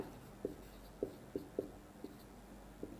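A pen tapping and scratching on paper while a table is drawn by hand, six or so soft, distinct ticks spaced unevenly over a quiet background, close and faint.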